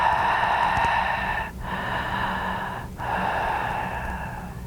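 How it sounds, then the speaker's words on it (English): Slow, deep cleansing breaths during a yoga session, each a long airy inhale or exhale with two brief pauses between, close and soft with no talking. "Use that cleansing breath"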